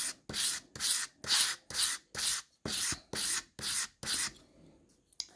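A saddlery knife is drawn across a 400 grit sharpening stone in nine even, rhythmic gritty rasping strokes, close and clear, followed by a brief quiet tap.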